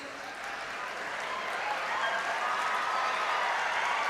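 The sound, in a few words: convocation audience applause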